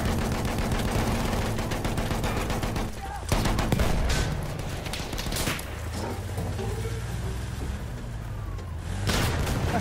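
Machine gun fire rattles in Battlefield 1 near an assault truck, dense repeated bursts of rapid shots with intermittent louder volleys over constant battlefield rumble, with voices faintly mixed in.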